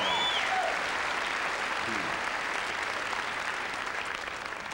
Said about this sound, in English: One more big round of applause for Lowell Sanders